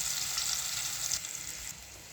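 Onion paste for chicken curry frying in a pan, a steady close hiss of sizzling oil that softens slightly toward the end.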